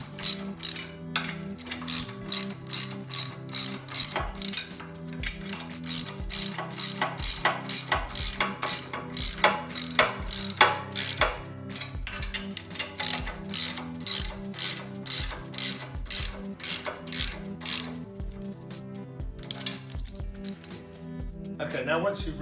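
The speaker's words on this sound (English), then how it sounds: "Then tighten with your 22mm socket." A 22mm socket wrench ratchets a nut tight on the ram stop kit of an electric hydraulic log splitter, a long run of rapid close clicks in repeated bursts with brief pauses between strokes.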